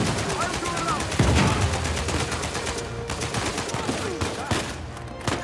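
Sustained automatic gunfire in Uncharted 4: A Thief's End, a dense rattle of shots with a few heavier impacts, continuous and loud throughout amid game ambience.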